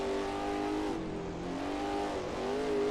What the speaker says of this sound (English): Wait, don't rev too much. Come on, little Mercedes.